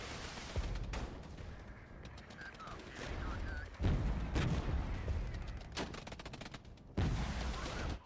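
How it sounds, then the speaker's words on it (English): Artillery and gunfire boom repeatedly in the video game Regiments, with heavy broadband blasts landing at irregular intervals over a constant rumbling battle din, several loud impacts standing out near the middle and end. "They're charging out of the artillery fire."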